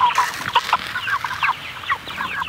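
A flock of farm chickens of an unusual breed clucking and chattering close by, overlapping busy calls throughout with no talking.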